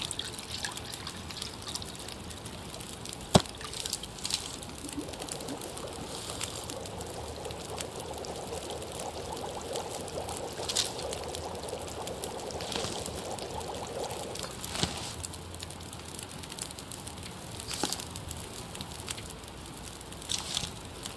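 Coffee being made in the survival video game The Long Dark: a steady, soft pour and trickle of water runs through most of the stretch, with occasional small clinks over quiet background ambience.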